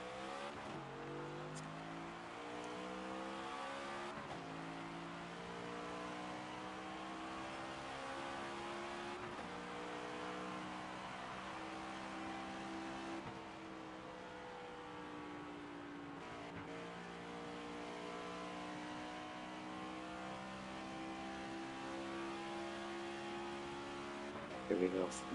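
Race car engines from the NASCAR 25 video game, driven the wrong way around the track, drone steadily throughout with layered revving tones and shifting pitch, with commentary talking over them.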